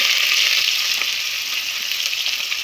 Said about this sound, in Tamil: வெங்காயம் வதக்கும் வெங்காயம் வதங்க கொஞ்சம் உப்பு கொடுக்கலாம்